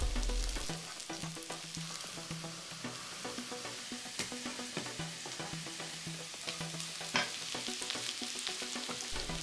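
Mushrooms fry in oil in a pan, with a steady close sizzle and crackle and occasional stirring scrapes and clinks throughout.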